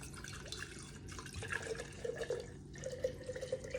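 Rum pours from a freshly uncorked bottle into a measuring container for homemade almond extract, a steady close liquid stream with small gurgles and drips, running continuously without talk.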